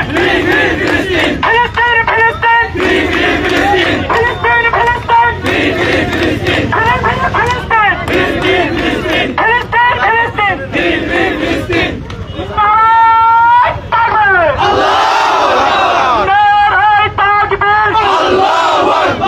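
A protest march crowd in Narail chants slogans for Palestine, loud rhythmic call-and-response shouting close by, many voices in unison with a leader's voice rising above, continuous throughout.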